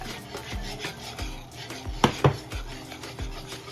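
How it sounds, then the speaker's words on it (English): A whisk beats warm milk in a pot for mac and cheese, giving a steady rhythmic scraping and swishing with a couple of sharper clinks against the pot in the middle. "I'm just consistently whisking it just to keep a nice consistency going"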